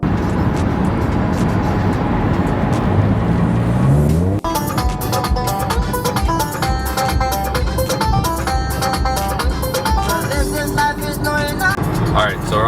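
A car cruises along the Don Valley Parkway highway in Toronto at night, with a steady road rumble inside the cabin and music playing over it.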